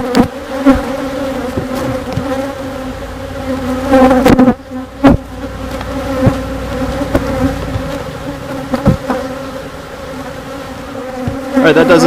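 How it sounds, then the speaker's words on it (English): Dense, steady buzzing of many honeybees swarming around a hive box, loud and close, with a continuous hum and occasional sharp passes of individual bees near the microphone. "given the amount of bees all over the cage"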